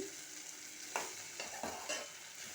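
Okra stirred in a frying pan, a steady sizzle under a few distinct scraping strokes of the spatula spaced about a second apart, close and moderately quiet with no talking.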